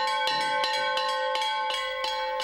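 Small ritual bells ring at a riverside memorial rite, with repeated sharp metallic strikes in an irregular rhythm and bright sustained tones that overlap and linger, close and clear with no talking.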